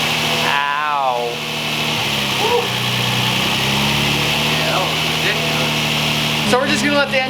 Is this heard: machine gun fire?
no